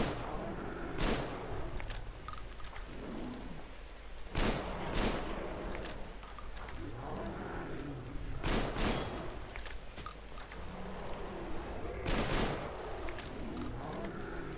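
Gunfire in the video game Metro Exodus, several loud sharp shots spaced a few seconds apart over a steady bed of game noise, with no talk.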